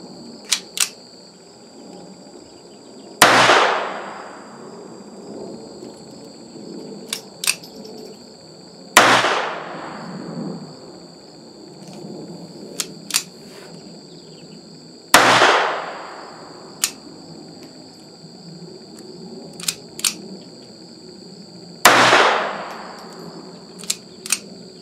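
A Jennings J22 pistol fires four sharp, loud single shots spaced several seconds apart, each crack trailing off in a short echo, with small metallic clicks from handling between shots.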